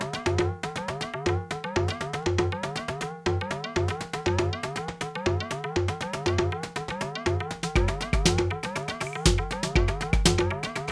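Roland Boutique JD-08 synthesizer running a 16-step sequence with the drums muted: dense, rhythmic layered synth notes pulsing steadily and loud throughout, with a deeper bass swell near the end, no voices.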